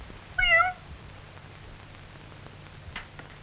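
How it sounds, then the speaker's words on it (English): A single clear meow from a mother cat at a kitchen door in a 1953 cartoon rises and falls in pitch, followed by near-silence and a faint later sound. "Well, here is Mother Cat at the kitchen door"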